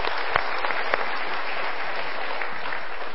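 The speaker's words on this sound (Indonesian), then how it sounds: "Kita berikan tepuk tangan lagi." A studio audience at a motivational talk show breaks into sustained, dense applause that stays loud and even from start to finish, with a few sharper claps standing out.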